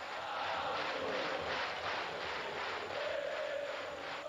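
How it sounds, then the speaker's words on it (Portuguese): Vasco football fans sing and roar in a packed São Januário stadium during a 1998 Brazilian league match against São Paulo, a dense, steady wall of crowd voices that holds loud and continuous throughout. "A torcida do Vasco canta"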